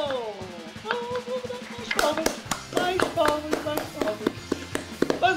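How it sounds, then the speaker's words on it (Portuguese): Scattered group hand clapping at a Brazilian football reaction show, starting loosely and building into brisk, uneven applause with people talking and calling out over it. "Guilherme Beltrão, salve de palmas!"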